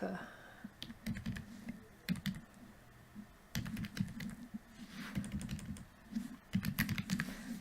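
Typing on a computer keyboard to fill in an online form comes in irregular clusters of soft, close key clicks with short pauses between bursts, quiet throughout.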